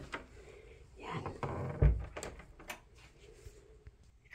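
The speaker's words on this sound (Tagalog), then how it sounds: "Isasara natin yung pinto." A door is pushed shut with a muffled thud partway through, amid soft rustling and a few light knocks nearby.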